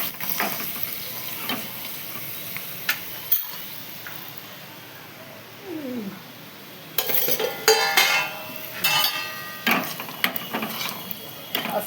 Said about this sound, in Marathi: भाजी आहे तर एका साईडला पापड तळते, अगोदर पापड तळून ठेवते.